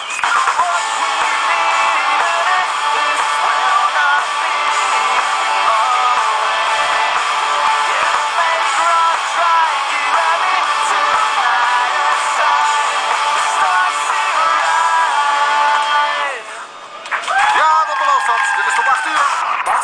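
A crowd cheers and whoops loudly and steadily for a live band on stage at a concert, the roar filling the whole stretch before dipping briefly near the end and surging back.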